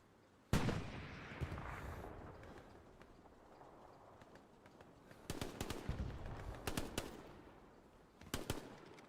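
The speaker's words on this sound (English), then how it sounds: "That guy's shooting at something" Gunfire rings out in the Empires of Europe 1100 mod for a war game: one sharp close shot, then scattered crackling volleys and cracks later on, fairly faint beneath a quiet background.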